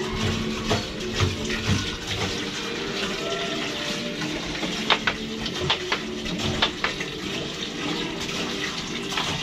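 Water pours steadily into a crayfish tank in a rooftop garden, a continuous splashing gush with occasional louder sloshes, close by, with only faint talk.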